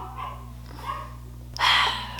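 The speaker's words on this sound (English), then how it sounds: "ooh, these dogs" Dogs bark in a few sharp bursts, the loudest near the end, over a steady electrical hum in the room.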